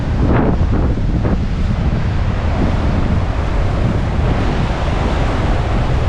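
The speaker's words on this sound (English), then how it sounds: "this wind that we've had today is quite strong, quite unseasonable" Strong, unseasonable wind on an outdoor walking route, buffeting the microphone as a loud, steady, broadband rumble throughout, with a few brief gusty surges near the start and no voices.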